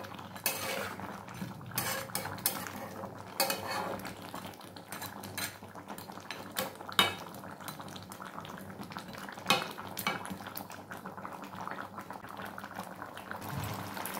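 Potatoes being stirred in a cooking pot, with a utensil scraping and clinking against the metal at irregular intervals over a low simmering bubble; close and moderately quiet, no talking.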